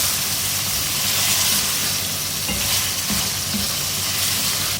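Chopped tomatoes being stirred into keema mince in a hot pan, a steady sizzle and hiss with scraping spoon strokes throughout, close and continuous.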